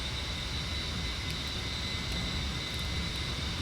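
A-10 attack jet engine held at full throttle in DCS World, a steady loud broadband roar with a constant high whine, unbroken and close throughout.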